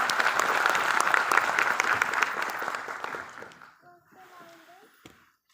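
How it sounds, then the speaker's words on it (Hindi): Loud applause from a seated audience at a talk on tribal literature and language, dense clapping for about three seconds before it dies away, followed by a brief faint voice. "आप अपने लिए भी जोरदार तालियां बजाएं"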